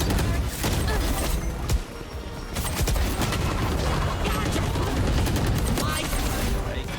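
Rapid gunfire bursts from a Valorant match, dense overlapping shots and impacts running almost continuously at close range, with a player's voice talking over the action.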